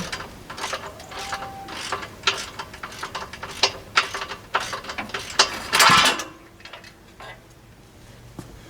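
Ratchet wrench clicking steadily while bolts come off a farm yard scraper, close and crisp, in repeated bursts of rapid ticks, ending with a louder clatter as a part drops free.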